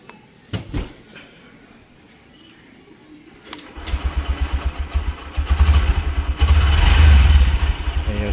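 A 2025 Honda SP 125 motorcycle starts quietly with a short silent-start crank, then its 125cc engine settles into a steady idle and rises briefly as it revs, with a little talk nearby.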